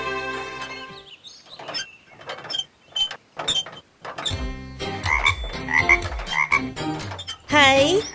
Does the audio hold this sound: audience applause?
no